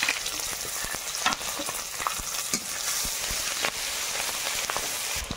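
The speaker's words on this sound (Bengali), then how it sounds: "একটু তেল দিয়ে দেবো কড়ায়, একটু পাঁচফোড়ন, তেজপাতা, পেঁয়াজ কুচি, রসুন কুচি, লঙ্কা" Panch phoron, bay leaf, chopped onion, garlic and chilli frying in oil in a kadai: a steady close crackling sizzle with small pops and scrapes throughout, no voices.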